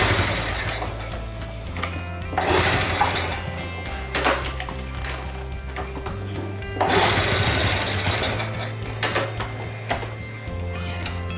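A Honda Chaly motorcycle with a faulty ignition is cranked over and over, its engine chugging and sputtering in rough rhythmic bursts without catching, close and loud.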